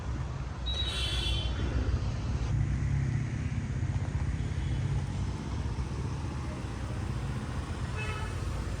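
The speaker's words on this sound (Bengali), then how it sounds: "এই যে গাড়ি আসছে" Road traffic hums steadily as a car draws near on a road near Nainital, with a short horn toot early on and a faint beep near the end.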